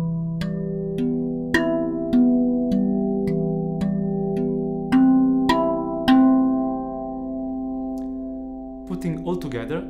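A RAV Vast steel tongue drum plays a slow arpeggio in 3/4 time, its ringing struck notes sustaining and overlapping, and a brief muffled touch closes the phrase at the end.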